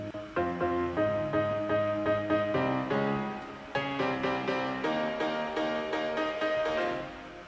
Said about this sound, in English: Addictive Keys is usually my go-to when I'm going for a really realistic piano